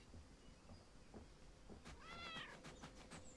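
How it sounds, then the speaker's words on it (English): Cat meowing in the video game Burglin' Gnomes: a short series of small mews in the second half, moderately near, over low background noise. "Did I just hear a cat?"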